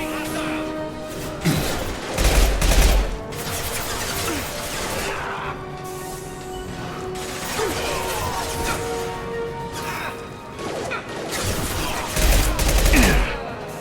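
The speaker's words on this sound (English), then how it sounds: "Firing now" Gunfire in the video game Mass Effect 2, repeated loud bursts and impacts with crashing blasts, rising and falling in waves across the moment, with game voices and effects between shots.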